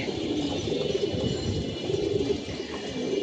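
Pigeons coo in a rooftop loft after a storm, soft low rolling calls repeating in short bursts over a steady background hiss, fairly close and with no talk.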